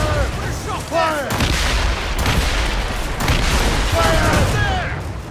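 Ship cannons boom repeatedly in a naval battle in Assassin's Creed Rogue, heavy blasts rolling one after another over crashing sea and crew shouts, with voices yelling orders throughout.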